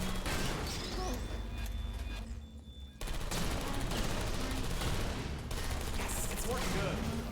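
Automated turrets in Portal Stories: Mel unleash dense, continuous bursts of rapid gunfire, loud and close, with a brief lull before the volley resumes.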